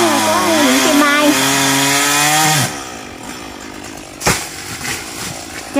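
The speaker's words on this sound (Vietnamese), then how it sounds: "cho nên anh Tùng phải cưa đoạn từ khúc." A chainsaw saws through a coconut tree trunk in sections on a rainy day beside a fence, whining loudly for a few seconds before cutting off, followed by quieter background and a brief knock.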